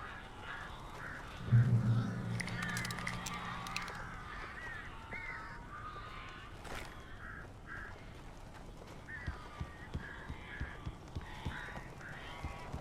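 Crows in Alan Wake Remastered give repeated harsh caws, scattered and fairly faint, with a brief low thump early on and light clicking sounds later.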